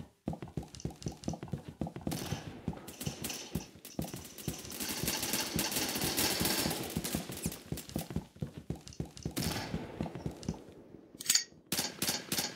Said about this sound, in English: Throwing some grenades to clear out the area.